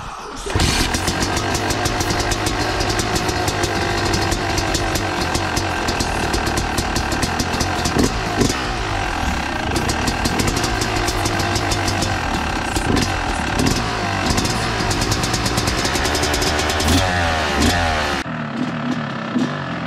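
A new dirt bike engine starts up and revs repeatedly while warming up, loud and close, with a rough idle between throttle bursts, then cuts off abruptly at the end.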